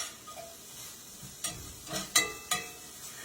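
Peppers, onions and garlic frying in a pan, a soft steady sizzle with a few sharper clinks and stirring scrapes, fairly quiet and with no talking.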